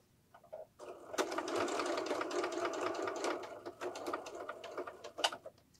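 Sewing machine stitching piping onto a pillow runs steadily for several seconds after a brief pause, its rapid close mechanical whirr broken by a few clicks near the end, with no talk.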